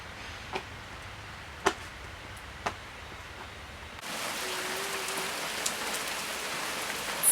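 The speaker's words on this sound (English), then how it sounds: "Finally it started raining guys." Steady rain hisses on a surface, growing heavier partway through, with a few distinct drips and ticks standing out.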